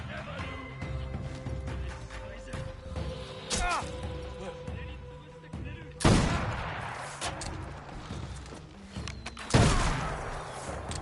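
Gunshots from the video game Assassin's Creed Shadows ring out as scattered sharp reports, with two loud bursts standing out, while a voice talks over the action.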